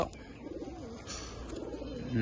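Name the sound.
Giribaz pigeons cooing in loft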